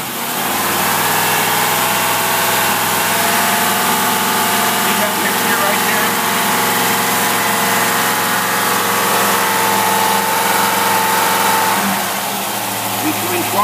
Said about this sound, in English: So if anybody tells you these predators won't idle, they're crazy.